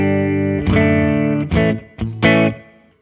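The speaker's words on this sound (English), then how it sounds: "we're hearing a little bit of reverb from the Flint, a slapback from the Timeline, and compression from the Exotic SP compressor" A Telecaster plays twangy country notes through reverb, slapback delay and compression, with several distinct plucked notes and short phrases, each ringing with a quick echo tail, loud and clear with no talking.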